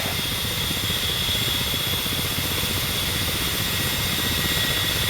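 A Ka-50 Black Shark attack helicopter flies in the DCS flight simulator, its turbine whine and rotor drone forming a steady, unbroken engine hum with a thin high tone over a low rumble, with no talk.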